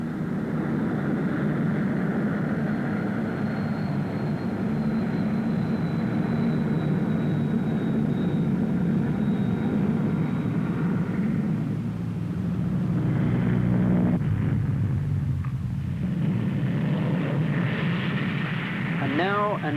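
A Vickers Vanguard airliner in flight at the Farnborough air show gives a steady, loud engine drone and rumble that shifts toward the end as a higher whine rises, with a crowd or commentary murmur faintly underneath.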